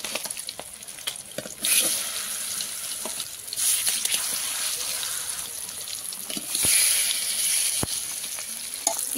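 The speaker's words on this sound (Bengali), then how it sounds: "কিছুটা মাছ কড়াইতে দিয়ে দিয়েছি, আর এবার মাছটা সুন্দর করে ভেজে নেব।" Fish pieces frying in hot oil in a wok, a steady close sizzle with louder bursts of crackling as more fish goes in, continuing without talk.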